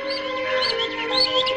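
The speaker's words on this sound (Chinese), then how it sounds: "啊，还有两只小鸟" Small birds chirp in a scene from the 1980 Chinese film Lushan Love, with bright, quick twittering calls repeating over a steady tonal background, moderately loud and continuous with no talking.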